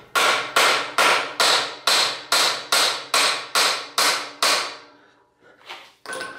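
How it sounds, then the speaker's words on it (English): A hammer strikes a stuck bicycle quill stem about a dozen times in a steady, even rhythm, loud and close, then stops with a couple of softer knocks after a pause. "Need a tap with a hammer,"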